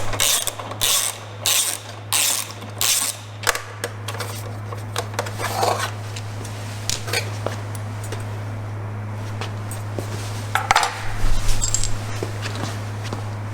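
A ratchet turning a 10mm socket on a long extension loosens the bolt behind the stock muffler of a Gen-4 850, giving several short bursts of close metallic clicking over a steady low hum, then a few scattered clanks.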